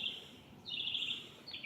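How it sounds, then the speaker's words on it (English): Birds sing in clear, high whistled phrases: one sustained song, a pause, then a longer bright trill and a short closing note. The song is fairly faint and heard alone over a soft outdoor background. "Listen to the beautiful music of the sound coming from the birds."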